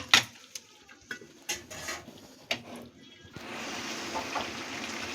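A lid set back onto a pot of spice-paste goat curry (khashir mangsho) on the stove, giving a few short metallic clanks and clatters of cookware, followed by a steady sizzling hiss.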